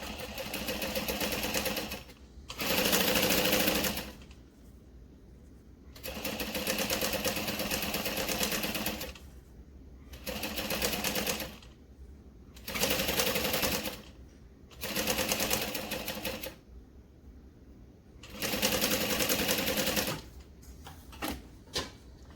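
A sewing machine bastes fabric in a series of bursts, its motor whirring and needle clattering for a few seconds at a time with quiet pauses between runs, close and clear.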